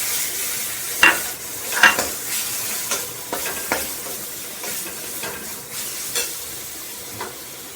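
Garlic paste frying in a pan with chili powder for Bengali fish chops, a soft continuous sizzle broken by several sharp stirring scrapes, close and alone.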